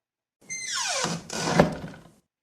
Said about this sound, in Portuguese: a porta se abriu